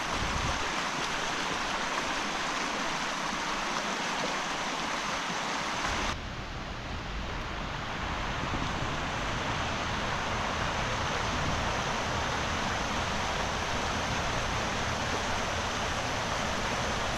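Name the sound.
water flowing over a small weir in a stream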